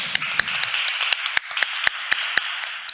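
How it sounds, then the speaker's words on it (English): Scattered claps from a panel session audience, a few sharp separate hand claps spaced irregularly over a steady background hiss, thin and sparse rather than a full ovation. "So one round of applause for everyone, right?"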